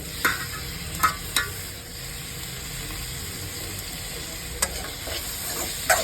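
Browned onions and beaten eggs fry in a pan with a constant close hiss of sizzling, broken by a few sharp scrapes and clicks of stirring. No one speaks.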